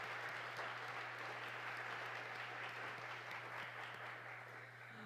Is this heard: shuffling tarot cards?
no